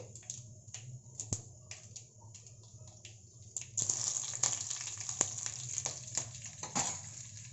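Urad dal and green chillies fry in oil for simple lemon rice, giving a faint patter of soft sizzles and pops that turns into a louder, denser crackle partway through, with no one speaking.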